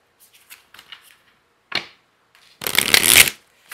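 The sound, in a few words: shuffling Shadow Oracle cards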